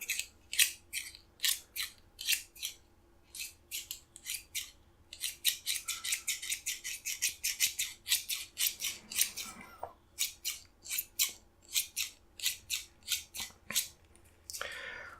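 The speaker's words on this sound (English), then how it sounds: "I'm supposed to do that, so I have some scissors here" Rapid bursts of crisp scissor snips through paper, in quick clusters with short pauses, close up and quiet, no voices.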